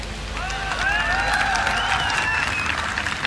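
An audience at a public lecture claps in a thick, steady burst, with rising tonal cheers or whistles weaving through the applause.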